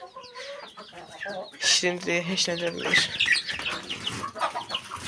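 Stressed hens cluck and squawk in a farmyard, a rapid run of close, agitated calls rising and overlapping, with a person speaking briefly among them.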